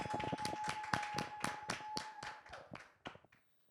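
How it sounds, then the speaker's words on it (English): A thin round of applause for a singer during a music interview: a few hands clapping in distinct, fairly quick claps that slow and fade toward the end, quiet and without talk. "Can we get a round of applause, folks?"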